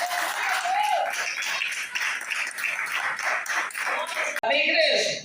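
A church congregation applauds at a service, a dense steady patter of clapping filling the room throughout, with voices mixed in and a brief cut near the end.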